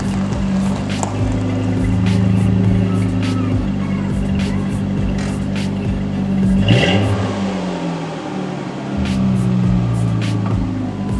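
Straight-piped Ford Mustang engine on a cold start, a loud, close, rough idle with a steady low rumble, a brief rev and dip midway, then settling back into uneven idling.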